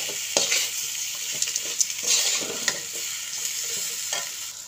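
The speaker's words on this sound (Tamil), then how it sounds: "இப்போ அப்படியே மசாலாலாம் அதில் சேர்கிற அளவுக்கு ஒரு வாட்டி தட்டி விடலாம்." Fried brinjal is stirred into masala in a pan: a bright steady sizzle broken by repeated sharp taps and scrapes of a spoon against the metal, close by, with no voices.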